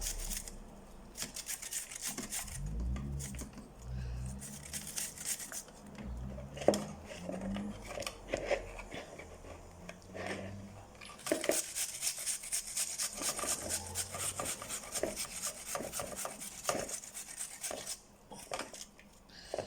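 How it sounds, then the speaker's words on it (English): An onion grated on a metal grater for kugelis, rapid rhythmic rasping strokes close up, getting denser and brighter in the second half. "So that's your onion pretty much grated up."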